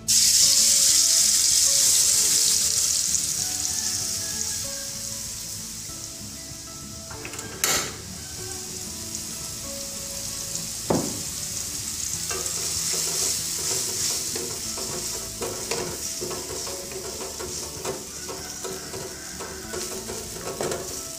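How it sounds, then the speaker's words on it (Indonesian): Ground spice paste frying in a pan, a steady loud sizzle with stirring scrapes and occasional clinks running throughout, no talking. "Sekarang saya akan goreng bumbu halusnya."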